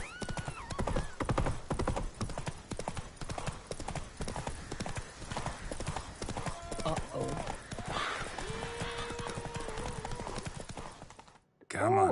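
Horse hooves galloping during a race in The Witcher 3 video game, a rapid loud clip-clop rhythm with neighs and whinnies, under game character speech, cutting out briefly near the end.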